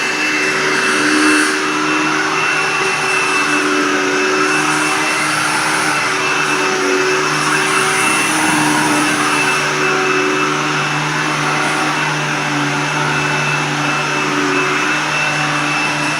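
A Hoover Tempo Widepath upright vacuum cleaner runs continuously on carpet, giving a loud, close, steady motor whine and airy rush that shifts slightly in pitch as it is pushed back and forth.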